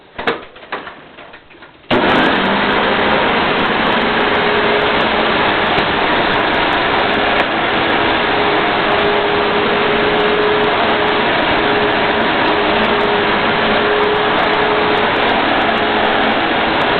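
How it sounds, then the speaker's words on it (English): A Hoover WindTunnel self-propelled upright vacuum cleaner switches on after a few faint clicks and runs as a loud, steady motor roar with a constant whooshing airflow, close to the microphone. "Time for the Hoover wind tunnel,"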